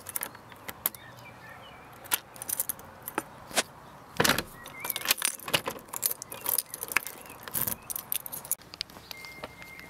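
Keys jangling and clinking in short bursts, fairly close, inside a car with the window open on a hot day, with faint mechanical clicks and no talking.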